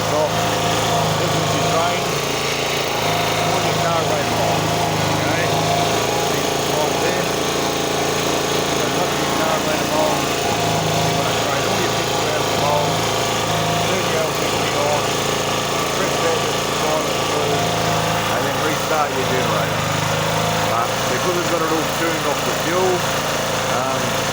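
A small generator engine converted to run on LPG drones steadily nearby, its hum wavering slightly in pitch as it runs, with someone talking over it.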